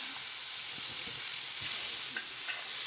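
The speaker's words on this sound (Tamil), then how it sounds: "இந்த சட்டிலேயே நெய் கொஞ்சமாக ஆட் பண்ணிவிட்டு பலாச்சோலையும் சேர்த்து நல்லா வதக்கிடலாம்" Steady, loud sizzling of jackfruit sautéing in ghee in a pan, with occasional soft stirring scrapes underneath.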